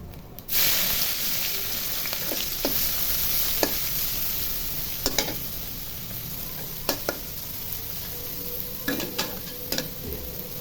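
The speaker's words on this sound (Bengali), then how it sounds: "জিরা ভাজা হয়ে গেছে, এখন পেঁয়াজ কুচি দিয়ে দিব।" Chopped onion hits hot oil with cumin seeds already fried, setting off a sudden steady sizzle and hiss that continues close by, broken by scattered clicks and spatula scrapes against the pan.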